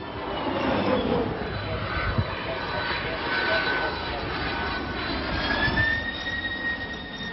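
A C-17 Globemaster military transport aircraft roars steadily during a joint exercise alongside a Japanese C-2 transport plane, a loud continuous jet rumble with a rising whine, partly under a voice talking.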